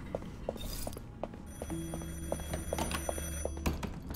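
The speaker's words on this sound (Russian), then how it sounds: "Мне звонят." Telephone ringing in the video game Beholder 3, a steady electronic ring over background game music and ambience, no talk.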